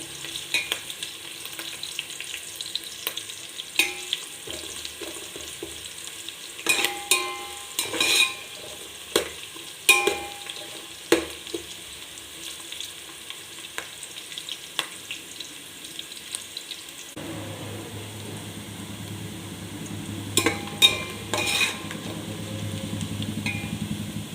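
Onions frying in oil and being stirred for chicken biryani, with steady sizzling and repeated scraping stir strokes; a brief tap-water run near the end, no talk.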